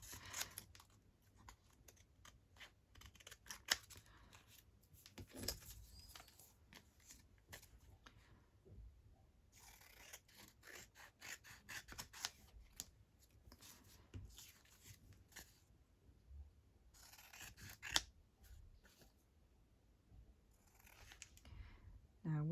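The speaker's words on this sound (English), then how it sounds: "Now we'll snip that off" Scissors snip paper scraps for a Christmas ephemera collage, giving irregular bursts of short, crisp cuts and papery rustles close by, broken by quiet pauses.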